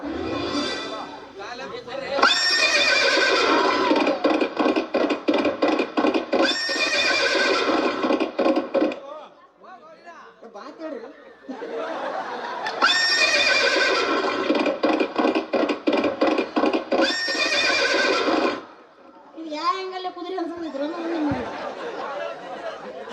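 A horse neighs in two long, loud whinnying bursts separated by a short pause, with hooves clip-clopping and people chattering nearby.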